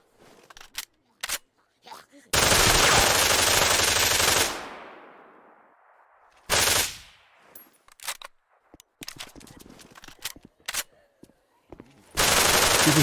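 MP5 submachine gun fired at a shooting range in the video game Dead Matter, with long loud automatic bursts that ring out with an echoing tail, separated by sharp clicks and handling clatter.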